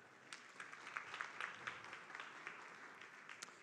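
An auditory audience at a business event in São Paulo gives soft, steady applause. The clapping sounds distant and faint and continues throughout, with a few louder claps near the end.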